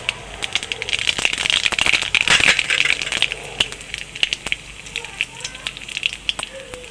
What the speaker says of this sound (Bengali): তেলের মধ্যে ফোড়ন দিয়ে দেবো কালো জিরে